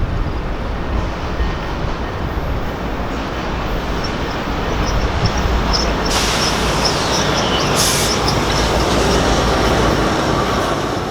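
An EMD F59PH diesel locomotive hauls a Canadian commuter passenger train past close by, a loud continuous rumble with rail noise and brief high squeals, growing slightly louder toward the end.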